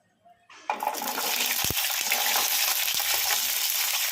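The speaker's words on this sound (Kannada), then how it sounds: "ಎಣ್ಣೆ ಕೂಡ ಬಿಸಿಯಾಗಿದೆ ಈಗ ಇದಕ್ಕೆ ಹಸಿಮೆಣ್ಸಿನ್ಕಾಯಿ ಹಾಕೋಣ ಕಡಾಯಿಗೆ" Green chillies hit hot oil in a kadai and burst into a loud, steady sizzle after a brief quiet start, with a few sharp pops and spatters through the frying.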